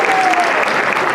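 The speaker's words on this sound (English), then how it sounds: "let's give a round of applause to the teachers who are running for the Crystal Campbell" Steady applause from a crowd, loud and continuous throughout, with a faint tone sounding briefly underneath.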